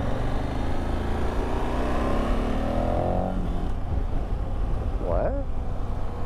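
KTM 1290 Adventure S motorcycle pulling away as the throttle is twisted, its engine note climbing smoothly and staying loud and close through the rise before easing off; a person talks at the end.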